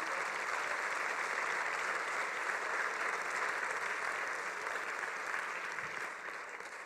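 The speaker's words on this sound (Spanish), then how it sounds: "Y justamente un aplauso para Jesucristo." Congregation at a church conference in New York claps for Jesus Christ, a broad continuous wash of applause from a large crowd that holds steady, then gradually fades.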